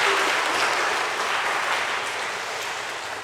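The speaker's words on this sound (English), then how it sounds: "Round of applause for our volunteer here." Congregation in a church applauding a volunteer during a homily, a sustained wash of many hands clapping that holds steady and slowly fades slightly toward the end.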